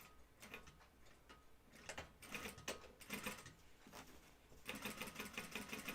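A sewing machine stitching a seam on a flight suit, bursts of rapid mechanical needle clatter that start and stop, quiet and close, with brief pauses between runs.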